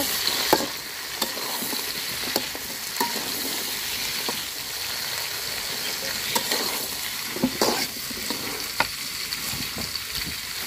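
Onions and chillies fry in a pan over a wood-fired stove, giving a steady sizzle with scattered crackles and pops and occasional stirring scrapes, close and continuous with no talk.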